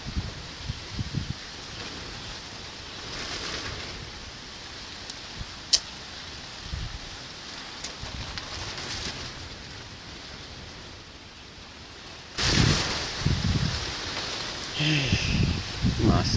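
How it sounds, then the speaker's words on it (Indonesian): Strong wind lashes trees in East Kalimantan, a continuous loud rushing and rustling roar with gusts surging louder near the end, no voices over it. "2 jam lebih sudah angin begini."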